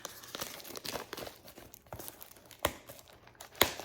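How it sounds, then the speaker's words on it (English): Plastic packaging on a cross-stitch kit is cut open by hand, giving faint, close crinkling and tearing with a couple of sharper snips near the end. "I need to cut the plastic."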